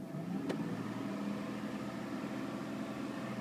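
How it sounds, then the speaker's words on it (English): Jeep Liberty engine idling in park and revving, a steady low mechanical drone with a brief sharp click near the start and no clear change in pitch. "Now rev the engine."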